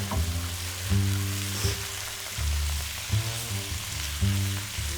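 Whole shrimp fry in a hot pan for garlic shrimp, a loud, steady sizzle broken by repeated scraping stirs and clanks of a utensil against the pan, with no talking.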